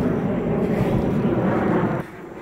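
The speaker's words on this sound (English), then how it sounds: "and there's an airplane." An airplane passes overhead outdoors, a loud broad steady roar that holds for about two seconds and then drops away.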